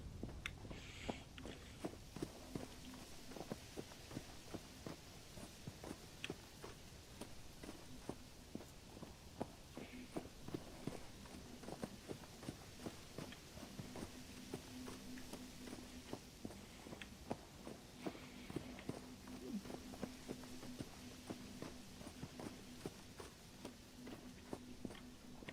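Hoof steps patter rapidly and continuously as a horse moves across Vintage Story terrain, a dense, quiet rhythm over a constant background wash with a faint tonal hum.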